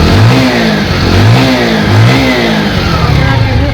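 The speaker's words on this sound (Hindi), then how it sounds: "यहाँ पर एक्सलेट करेंगे हल्का सा" A Bajaj Pulsar 150 motorcycle with a reported sound and white-smoke problem is revved lightly, its engine note rising and falling in a few short swells, loud and close.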